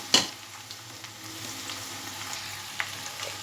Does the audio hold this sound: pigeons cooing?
no